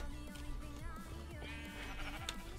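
Sheep in the video game Minecraft bleat in a short, wavering run of digital animal calls, fairly faint and alone without talk.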